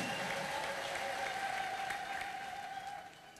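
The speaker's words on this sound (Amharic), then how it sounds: "እልልታ ጭብጨባ ለጌታ ለኢየሱስ" Church congregation applauding with ululation, a dense steady wash of clapping and a sustained high trilling tone that fades toward the end.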